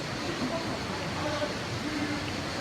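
Waterfall at the summit of Şahinkaya Canyon near Altınoluk, Balıkesir, where the cold water emerges: a steady, even rushing hiss that fills the background without pause.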